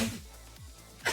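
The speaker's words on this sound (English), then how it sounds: "That's my husband sneezing." A single short man's sneeze near the mic, followed by a quieter breathy sound.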